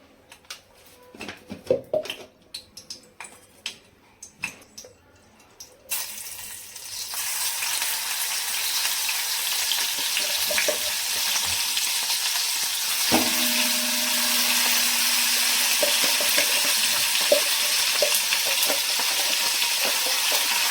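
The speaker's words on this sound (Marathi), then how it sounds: "छान असं परतून घ्यायचं आहे आता हे" Ground masala paste hits hot oil in a kadai and breaks into a loud, steady sizzle that holds to the end, after a few clinks and taps at the start.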